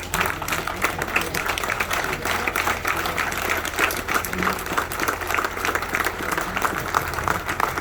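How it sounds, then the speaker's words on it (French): Sustained standing ovation from an audience at a memorial tribute, steady rapid clapping throughout at an even, moderate loudness. "On va s'élever pour applaudir pour lui."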